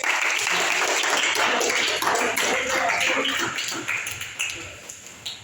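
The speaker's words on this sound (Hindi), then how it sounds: "बहुत बढ़िया, तालियां उनके लिए" Students in a Hindi classroom applaud a classmate, a thick wash of clapping that holds steady, then tapers into a few scattered claps near the end.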